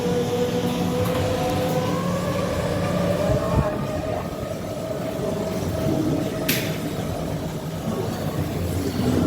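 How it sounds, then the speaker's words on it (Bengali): A ride on a train at Science City, a continuous low rolling rumble with a steady humming tone while voices and narration play over it. "দর্শকরা ট্রেনে করে যাচ্ছি"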